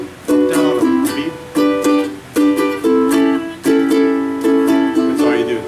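Ukulele strummed in a steady down-down-up pattern, bright chord strokes repeating in even groups with brief gaps between bars, close and fairly loud with no talking.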